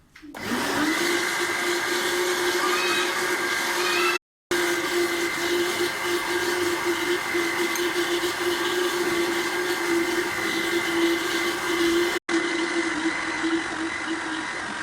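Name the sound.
blender mixing eggs, milk and oil for flan cake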